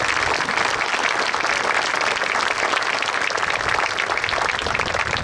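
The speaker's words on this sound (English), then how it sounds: "If you could give them a round of applause." Crowd applause at an outdoor Veterans Day ceremony at Mt. Soledad, honoring the Marine Corps Recruit Depot Band and color guard; dense, steady clapping fills the whole stretch without letup.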